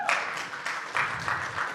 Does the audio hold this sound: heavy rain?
no